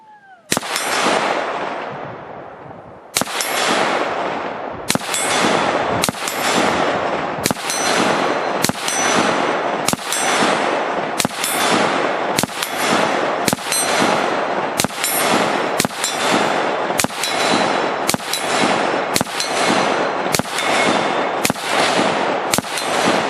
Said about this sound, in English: So now we've got a 223 set up at 100 yards with some 55 grain full metal jacket, and we're going to burn through a magazine